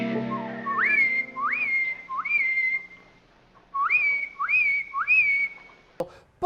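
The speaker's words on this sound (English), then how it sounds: "it's a very specific whistle." A distinctive rising signal whistle, a person whistling three quick upward-sweeping notes, a pause, then the same three-note pattern again, clear and close in a quiet film scene, ending with a short knock.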